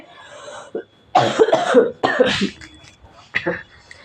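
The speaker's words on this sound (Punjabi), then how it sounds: "ਮੈਨੂੰ ਪਹਿਲੇ ਖਾਂਸੀ ਹੋਈ ਆ" Several harsh coughs in quick bursts, close and loud, with short pauses between fits and a quieter cough at the end.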